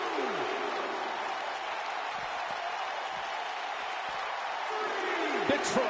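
A large arena crowd in the WWE 2K19 wrestling game applauds and cheers in a steady, dense roar, with a commentator's voice running over it.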